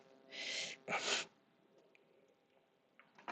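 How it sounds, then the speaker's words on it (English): Two quick bursts close to the microphone, a sharp breathy sneeze-like expulsion, followed by quiet with faint small noises. "otherwise I was going to be sneezing right in your ears"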